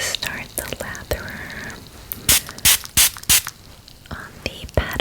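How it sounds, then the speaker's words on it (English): Cosmetic spray pumped several times in quick succession to start a lather during a fairy-themed skincare and makeup session, close, crisp hisses amid soft whispering and faint handling sounds. "So just gonna spray that to start the lather"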